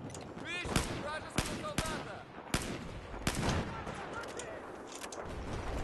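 Sharp gunshots crack repeatedly amid Battlefield 4 combat on the Caspian Border map, several spaced reports ringing out over continuous battle noise while someone talks excitedly in between.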